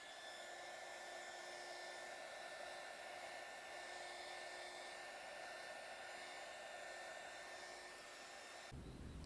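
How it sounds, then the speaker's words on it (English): A hairdryer blows steadily to dry alcohol ink artwork, a loud continuous whir with a high whine that runs unbroken and cuts off abruptly near the end. "take the hairdryer and just dry it thoroughly"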